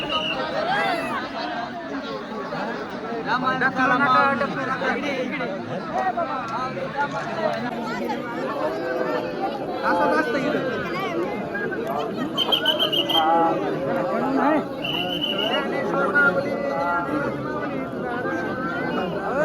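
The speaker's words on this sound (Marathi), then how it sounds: "हे बघा एवढी गर्दी आहे बघा गर्दी आहे" A large crowd of pilgrims on Palkhi day near the Indrayani river, a dense close hubbub of many voices talking and calling over one another, continuous and loud throughout.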